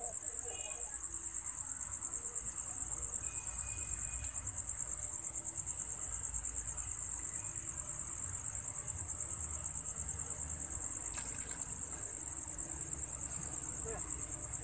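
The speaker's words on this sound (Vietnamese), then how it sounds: "Nghe thấy dế kêu như kiểu là" Crickets chirp continuously at night in Hanoi in a dense, high-pitched pulsing drone, steady throughout, with faint low background rumble and no clear speech.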